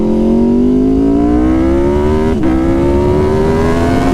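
A 2019 Aprilia RSV4 RR sport bike accelerates hard, its engine note climbing steadily and loud and close, dipping briefly at a gear change, then rising again.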